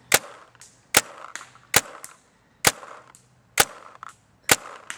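A video game gun fitted with an Apex barrel fires six evenly spaced sharp cracks, each followed by a brief decaying tail and a faint softer click between shots.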